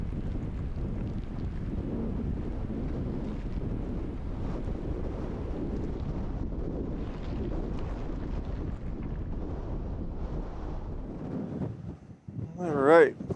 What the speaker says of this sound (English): Boy, it is really windy, so I'm gonna have my back to the wind.